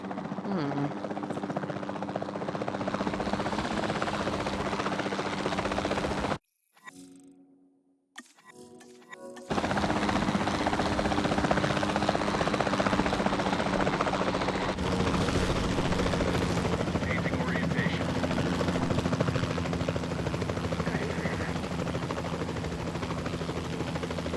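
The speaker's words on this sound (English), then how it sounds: "Then the sensible thing is to take a capture team helicopter." The capture team helicopter in Jurassic World Evolution 2 drones and thrums steadily in flight, a loud continuous rotor sound broken by a short quiet gap, with faint ticking and game effects mixed in.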